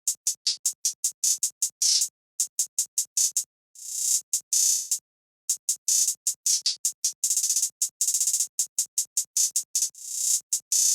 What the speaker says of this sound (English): the finished hi-hat pattern is sounding like this